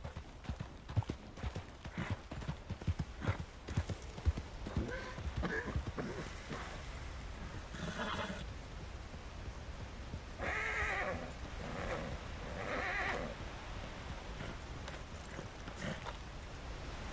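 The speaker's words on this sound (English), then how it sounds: "Heard a horse." Horse hooves clip-clopping on ground in the RedM western game, a rapid uneven run of hoofbeats early on, then several loud whinnies and snorts midway, with a soft rain-like hiss underneath throughout.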